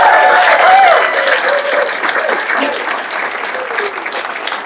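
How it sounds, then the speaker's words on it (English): Applause from a room full of attendees at a chamber of commerce breakfast, dense steady clapping that starts loud and tapers slightly, with a few voices faintly mixed in. "Can we get one more round of applause for the Easter Bunny?"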